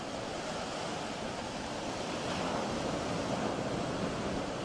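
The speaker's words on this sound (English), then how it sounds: "Wave!" Ocean surf breaking on a Gulf Coast beach at Perdido Key, Florida, a steady, loud, continuous wash of rolling waves and spray with no voices.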